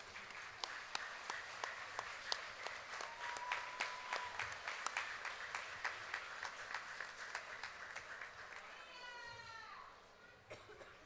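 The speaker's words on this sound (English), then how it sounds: "Please give them a round of applause." Audience clapping for Junior Miss contestants at a Choctaw Nation princess pageant, a steady patter of applause with distinct individual claps standing out, fairly distant, as children's voices and chatter mix in and the clapping thins toward the end.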